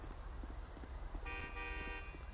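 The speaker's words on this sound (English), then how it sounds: "Don't honk at me." A car horn in GTA 5 honks once in a sustained blare over a low engine rumble, fairly faint and steady.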